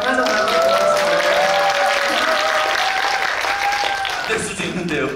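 Applause from a cinema audience at a guest-visit screening at Megabox COEX, a dense steady clapping that fills the room for several seconds and fades slightly at the end, with some voices mixed in.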